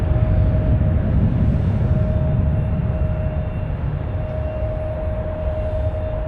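A loud Boeing 737 passes overhead near San Francisco, a heavy, continuous low roar with a thin steady whine on top, fading only slightly over several seconds.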